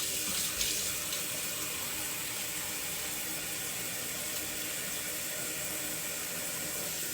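Water runs from a bathroom sink tap as a constant, close hiss that stays steady throughout. There is a small bump near the start, and no one speaks.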